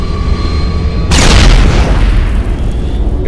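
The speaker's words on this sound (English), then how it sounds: "That was an explosion" A loud explosion in the video game Mass Effect 1 Legendary Edition bursts in suddenly after a steady hum, a deep booming blast that rolls on and slowly fades.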